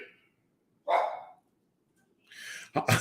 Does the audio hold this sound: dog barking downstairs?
yes